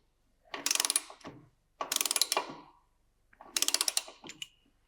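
A ratchet wrench torques down the axle nut on a Yamaha R7 motorcycle in three close, quick bursts of rapid clicking, separated by short pauses.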